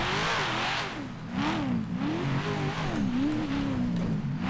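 A Nissan R35 GT-R fitted with an LS V8 engine in a video game, revving hard with rising and falling pitch sweeps, loud and close, the engine alone with no voices.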